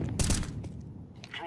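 Rapid bursts of sheriff-style pistol fire in a Wild West themed video game, a few sharp shots close together near the start, with a voice talking over the gameplay.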